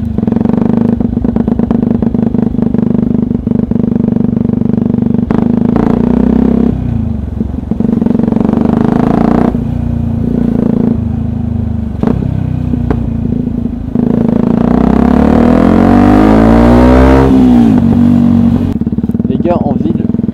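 Yamaha WR125X single-cylinder 125cc motorcycle ridden on the road, its engine note rising and falling through gear changes with a strong revving sweep near the end, steady and close under continuous talking from the rider.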